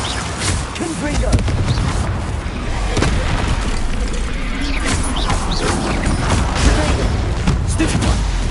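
Confringo fire spell explosions in the Hogwarts Legacy video game, a dense barrage of booms and crashes during a fight with a troll, loud and continuous, with voices over the chaos.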